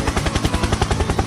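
A voice imitates a helicopter with a rapid, loud, steady pulsing drone while three spoons stir a cake batter in a home kitchen, with the rhythmic throbbing continuing without pause.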